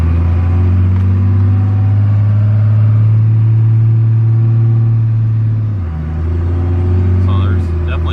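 A first-generation Cummins diesel truck with a swapped 47RE transmission and Firepunk Anteater pulls away from a stop in first gear, its steady low engine drone shifting pitch as it loads up, with someone talking over it.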